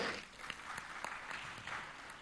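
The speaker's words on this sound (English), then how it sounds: "Let's give Africa a round of applause" Audience applause at a panel discussion on digital infrastructure and technology in Africa, a steady, fairly faint patter of clapping from a crowd, with no talk over it.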